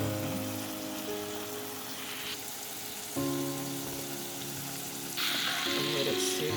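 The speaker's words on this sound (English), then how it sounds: "And let it sear on that side." Garlic ribeye steak sears in a hot pan with a steady, close sizzle that shifts in texture and jumps louder at moments as the meat is moved, with faint background hum and no clear talk.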